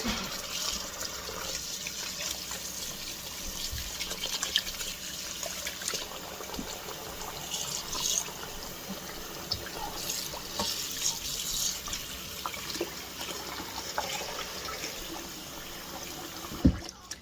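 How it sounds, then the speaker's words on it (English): Running tap water pours steadily into a bowl of seitan dough, a continuous splashing rush with faint clinks near the end. "you are going to fill it up with water"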